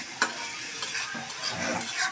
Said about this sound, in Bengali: এটা ভালো করে লেড়ে চেড়ে একটু আঠালো করে উঠাবো।